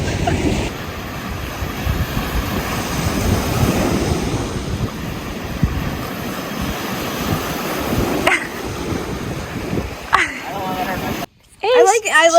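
Strong wind roars across the microphone over the rush of ocean surf at a beach, steady and loud, with a brief voice near the end.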